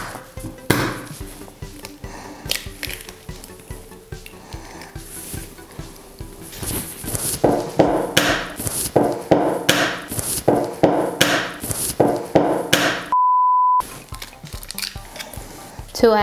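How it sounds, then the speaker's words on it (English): Eggs are cracked into a brownie batter, giving a few short wet cracks and squishes among kitchen clatter, with a dense burst of close, rhythmic tapping and scraping in the later part. "I usually don't break the eggs right on top of what I'm cooking, but I'm gonna do that now."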